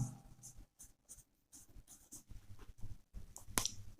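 Chalk or marker writing on a board during a chemistry lesson on naming coordination compounds, scattered faint scratchy strokes and taps in uneven bursts, with soft speech in between.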